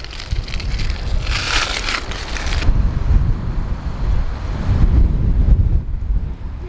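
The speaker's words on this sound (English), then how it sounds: "Windy, isn't it?" Strong wind buffets the microphone on a beach in gusty, rumbling roars, rising and falling over several seconds with no voices.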